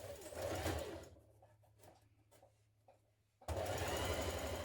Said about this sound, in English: Carry on sewing down to the bottom of your hem.